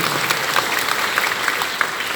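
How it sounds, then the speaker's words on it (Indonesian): Applause from the audience at the closing of a nativity-scene exhibition at Bogor Cathedral, a close, dense and even roar of clapping with no pauses. "Tepuk tangan untuk saudara prestasi ini."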